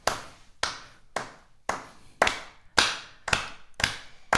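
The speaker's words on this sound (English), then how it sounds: "And then I continue clapping." Hands clapping a steady classroom beat for a primary music lesson, eight sharp claps evenly spaced, close and clear with no talking.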